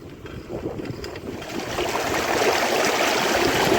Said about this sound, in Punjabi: ਮਿਰਚਾਂ ਨੂੰ ਪਾਣੀ ਚੱਲ ਰਿਹਾ ਜੀ